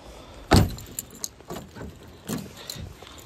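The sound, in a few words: car parking at night, door and keys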